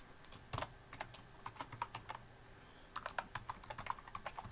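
Typing on a computer keyboard during a website sign-up, a fast irregular run of close, crisp key clicks that pauses briefly midway before resuming in quick bursts, with no voice.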